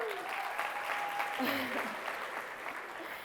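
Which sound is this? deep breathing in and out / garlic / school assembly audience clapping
school assembly audience clapping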